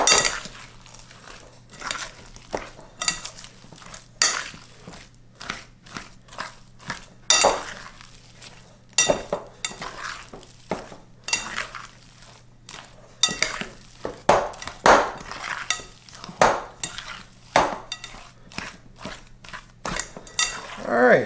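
A utensil works chocolate chips into keto almond joy cookie dough in a bowl, giving repeated uneven clinks and scraping knocks in short bursts with brief pauses between strokes.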